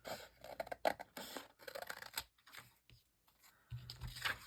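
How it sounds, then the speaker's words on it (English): Crisp, snipping cuts with a papery rustle, several in quick succession, close up and fairly quiet, with a low hum entering near the end. "I do use scissors sometimes."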